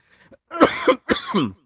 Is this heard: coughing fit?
yes